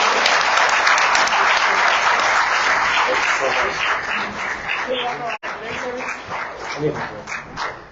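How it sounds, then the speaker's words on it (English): Sustained audience applause at a city's State of the City address, a dense steady clapping that fills the room and dips briefly near the end, with faint voices underneath. "I want you to give them a round of applause"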